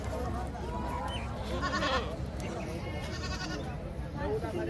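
Goats bleat in short wavering cries at a busy goat market in Parbhani, several animals calling over a steady murmur of crowd noise, with people talking nearby.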